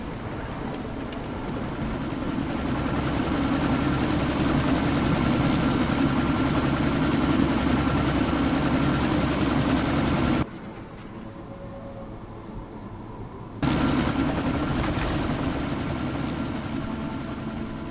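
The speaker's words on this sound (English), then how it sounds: "That chopper's about to take off!" A helicopter in the Deus Ex video game runs loud and close with a dense rotor-and-engine roar. It cuts abruptly to near silence for a few seconds, then the roar returns at full strength.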